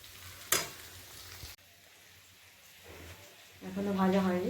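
Onions frying in a pan give a soft, steady sizzle in a home kitchen, faint and close, joined by a brief clatter and a louder hiss near the end.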